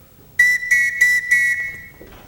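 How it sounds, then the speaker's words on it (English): Four sharp, loud blasts on a shrill whistle blown to summon people in a Sound of Music stage production, evenly spaced and close, followed by a fading tail. "Everyone in this house answers to a whistle."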